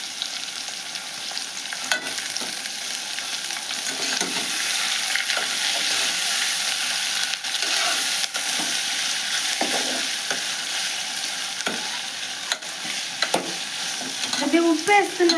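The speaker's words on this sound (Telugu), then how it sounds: "ఉల్లిగడ్డలు కూడా వేస్తున్నానండి. కరివేపాకు కూడా వేస్తున్నానండి," Onions and curry leaves fry in a pan for prawn curry, giving a steady, close sizzle throughout with occasional stirring scrapes and a louder sputter near the end.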